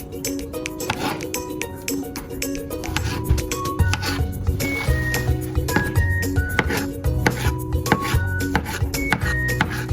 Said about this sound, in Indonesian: Sama buah naganya juga kita potong menjadi potongan kecil-kecil.